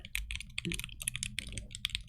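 Steady clacky typing on a custom-built mechanical keyboard with lubed switches, a quick run of keystrokes up close, with a brief low rumble in the middle.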